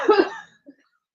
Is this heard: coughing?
yes